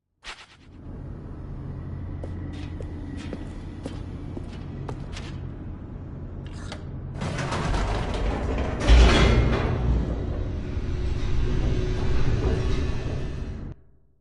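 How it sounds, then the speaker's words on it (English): An elevator plummets downward in the video game The Stanley Parable, a steady mechanical rumble and rattle with creaks that swells louder and harsher partway through, a heavy jolt, then a sudden stop. "The elevator raced downward, plummeting towards an unknown fate"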